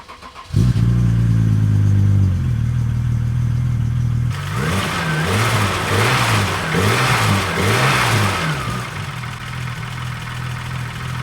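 A BMW E9 Coupe fitted with the E34 M5's S38 straight-six starts up, idles briefly, then revs hard through several climbing pulls, loud and close, before settling back to a rumbling idle.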